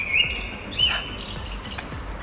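A few short, high bird chirps ring out at a moderate distance over a low outdoor rumble, spaced irregularly.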